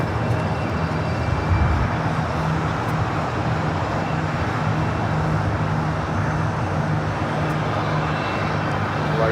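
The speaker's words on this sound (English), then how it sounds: "Next takeoff, Delta Airlines Flight 523 heading to Atlanta." A Delta Airlines Airbus A321 bound for Atlanta takes off at Los Angeles LAX, a loud continuous jet roar that holds steady and fills the scene with no talk.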